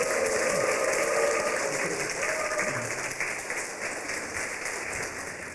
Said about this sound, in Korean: 우리 큰 박수로 또 격려해 주시기를 부탁을 드립니다.